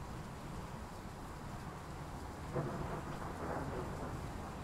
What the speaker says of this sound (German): Während es donnert und donnert und donnert.